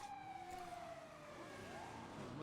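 Police car siren in the GTA roleplay game, a continuous wailing tone sweeping steadily downward then rising again, loud and alone with no talk over it.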